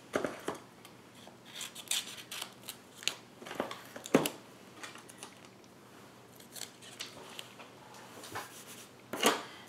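Scissors snip through card stock for a holiday gift card holder ornament, a series of crisp, close cuts in irregular bursts with a few louder snips.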